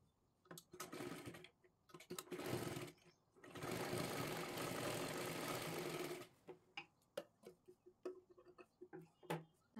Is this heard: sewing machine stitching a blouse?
yes